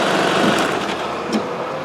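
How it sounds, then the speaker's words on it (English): A car engine runs steadily at a fast, high-pitched drone after a clamp is taken off, close and loud with a slight buzzing vibration and no talk. "I take the clamp off to see the engine stall or not."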